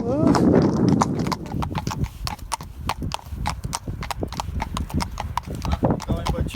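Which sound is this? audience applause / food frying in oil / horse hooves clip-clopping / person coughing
horse hooves clip-clopping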